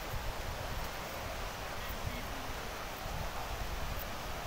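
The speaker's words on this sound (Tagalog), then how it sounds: "yung hangin ngayon dito, malakas." Strong monsoon (habagat) wind on Boracay beach on a cloudy day: a steady, loud roar of wind buffeting the microphone, with a hint of surf and no clear speech.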